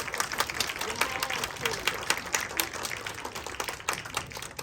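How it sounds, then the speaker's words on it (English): An audience claps warmly for the actors of a community reenactment at a film festival, many individual hand claps crackling in a continuous, lively burst with some voices murmuring underneath. "One more applause for our amazing actors here"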